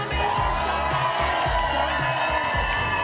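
A large, spring-break-like Monday morning crowd cheers and whoops on the TODAY Show plaza, a loud, steady roar of many voices with rising bursts of shouting throughout.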